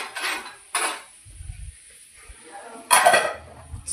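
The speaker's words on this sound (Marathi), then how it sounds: "आणि आता याच्यावर मी ठेवणार आहे झाकण" A lid goes onto a cooking pot with a few sharp, close clanks separated by quiet gaps and a soft low thud in between.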